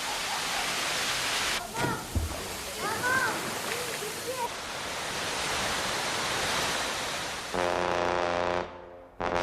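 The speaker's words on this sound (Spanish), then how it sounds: "Las relajantes cascadas caen sobre 3 piscinas a distintos niveles" Waterfalls pouring down into three natural pools at different levels in El Salvador, a dense, steady roar of rushing water that holds almost throughout, with a voice talking briefly over it and a sudden cutoff at the end.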